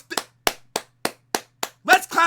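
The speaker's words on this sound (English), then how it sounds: "Let's clap it up for Luka." A handful of separate hand claps, loud and close, spaced at a steady slow pace, followed by a brief burst of louder noisy sound at the end, offered in tribute to footballer Luka Modric after a Barcelona–Real Madrid Clasico.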